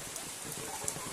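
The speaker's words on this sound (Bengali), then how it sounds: "বৃষ্টিতে ভিজছে" Rain falls in a steady, soft patter, a continuous hiss of drops on surfaces with a few louder taps, faint and with no voices.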